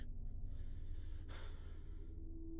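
Heavy breathing in a quiet room, with a single sharp audible breath or gasp near the middle over low steady background hum, close and faint.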